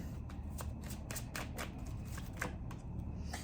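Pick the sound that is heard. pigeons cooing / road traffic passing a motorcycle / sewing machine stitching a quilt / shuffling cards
shuffling cards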